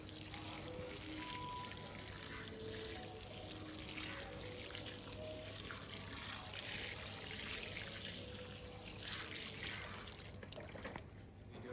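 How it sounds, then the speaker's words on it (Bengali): Water is poured over newly sown white and purple eggplant seeds in soil, making a steady, moderately faint splashing trickle throughout with no voices. "ভালো করে ভিজিয়ে দেবো জল দিয়ে।"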